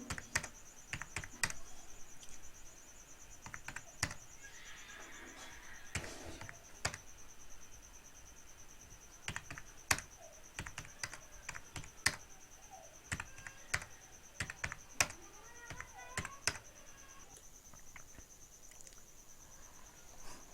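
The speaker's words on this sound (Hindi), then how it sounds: "अब जितना भी स्टूडेंट थे उनका यहाँ पे सभी का नंबर यहाँ पे मैं टाइप कर लिया हूँ।" Keys tapped on a computer keyboard while entering student marks into an Excel sheet, heard as irregular bursts of close, crisp clicks with short pauses, over a faint steady high insect-like whine and no talking.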